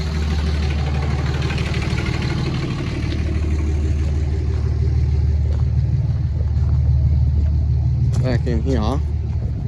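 Forklift engine running steadily on a farm, a loud, close, continuous low rumble and idle throughout, with a person talking over it.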